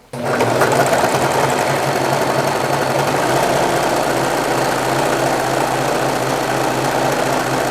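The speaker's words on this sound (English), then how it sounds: "place the napkin right there at the very tip of the needle and start serging" A serger stitches a rolled hem along the edge of a fabric napkin, a steady, loud, continuous mechanical whir with a fast stitching rhythm that starts abruptly and runs without pause.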